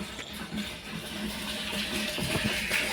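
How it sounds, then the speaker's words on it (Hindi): Water gushes fast from a pipe into a tank after a motor fault was fixed, giving a steady, even rushing hiss that stays loud and continuous throughout. "अब पानी का रफ्तार देखो क्या तेज़ी में पानी आ रहा है"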